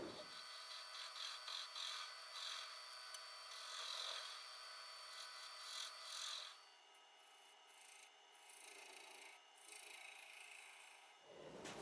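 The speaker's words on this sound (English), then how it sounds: "all I'm using is a negative rake scraper." A negative rake scraper cuts across a small wooden lidded box on a lathe, a steady rasping scrape for about six seconds that then eases to lighter, intermittent rubbing over a quiet hum, with no voices.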